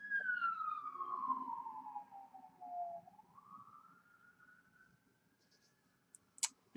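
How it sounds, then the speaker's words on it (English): A police siren wails with a long downward then rising sweep, fading into the distance as it passes, with a few faint clicks near the end. "There have been a lot of sirens today."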